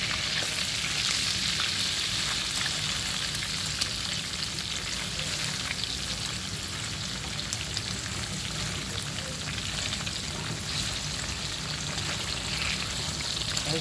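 Tofu pieces fry in a pan with a steady, close sizzle of hot oil, with occasional stirring and scraping as they are flipped, continuing unbroken with no talk.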